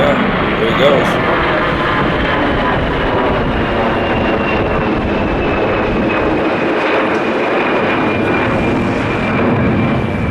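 Airliner engines at Narita spool up loudly for a go-around with the landing gear still down, a broad steady roar that holds evenly throughout, with a faint voice briefly in the mix.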